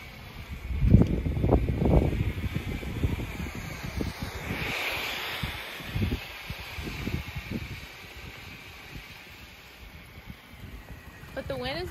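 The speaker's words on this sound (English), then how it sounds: "But the wind is blowing pretty hard today, as you can tell." Strong wind blowing hard outdoors, buffeting the microphone in heavy low gusts that are loudest early on and ease off later, over a constant airy hiss.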